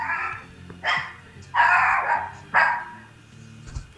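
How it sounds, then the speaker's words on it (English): A dog barks several times in short bursts, slightly distant and irregular, with a low background hum. "Oh my! I hear a dog in the background."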